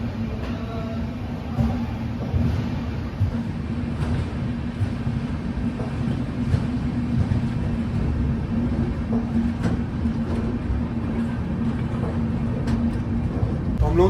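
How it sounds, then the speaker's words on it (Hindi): Interior of the Shirdi Mysuru Express as it departs Sainagar Shirdi station: a continuous loud low rumble of the moving train with rhythmic clatter throughout, heard from inside a coach. "हम लोगों की ट्रेन अब निकल चुकी है साईनगर शिरडी रेलवे स्टेशन से"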